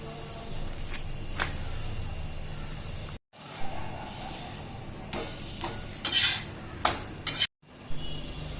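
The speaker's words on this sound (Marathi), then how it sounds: "आणि चांगली भाजी हलवून घ्यायची" A spoon scrapes and stirs fenugreek leaf bhaji cooked with gram flour in a pan, close and moderately loud, with intermittent clinks and scrapes, soft sizzling underneath and two brief pauses.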